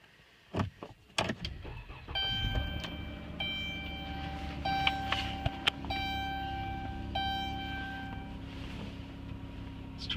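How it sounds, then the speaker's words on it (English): A Chrysler Town and Country minivan starts up after a few clicks and thuds, its engine settling into a steady idle while chimes and electronic beeps repeat over the running motor. "let's turn around so you can kind of hear how it starts up."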